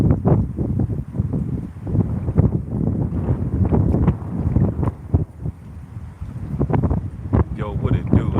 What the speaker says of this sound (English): Forgive the wind.